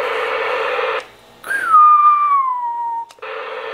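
A President McKinley CB radio transmits a whistle at 4 watts through its speaker: steady radio hiss, a short gap, then one loud gliding whistle tone that falls slowly in pitch before the hiss returns.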